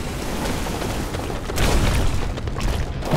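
Icy explosions go off in the Diablo III PC game during a busy fight, a dense wash of booming bursts that grows louder partway through, with no talking over it.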